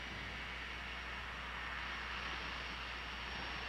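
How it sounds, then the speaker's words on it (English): Parked military aircraft sit with their engines running, giving a constant, broad, roaring jet-engine rush at a steady level, with no talk over it. "the parked aircraft also are waiting to taxi out with their engines running"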